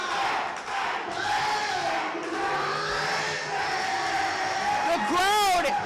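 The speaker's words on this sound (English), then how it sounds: "the crowd is electric" Wrestling crowd at the opening contest of an IWE BattleZone TV episode roars and cheers steadily, loud and sustained throughout, with rising whoops and a shrill whistle-like yell near the end.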